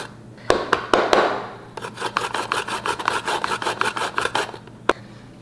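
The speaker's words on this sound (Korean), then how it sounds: "이렇게 갈아 주시면 됩니다. 생강 갈아 주었습니다." Fresh ginger root rubbed by hand across a grater, giving a steady run of close, raspy scraping strokes in a quick rhythm, with a few sharp knocks at the start and end.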